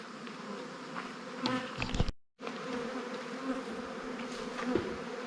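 A dense, steady buzz of many honey bees in autumn flight around an apiary hives, continuous and close, with a brief dropout midway.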